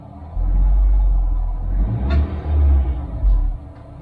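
A 2012 Honda City's engine produces a loud, distinct noise from the front, heard as a heavy low rumble that swells and dips steadily for several seconds, close to the car, with no talking.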